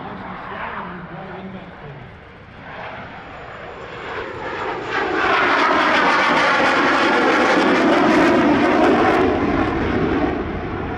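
RAAF Classic Hornet jet taxiing in to park after its final public display at an airshow, a loud sustained engine roar that swells and holds steady, with speech over the top.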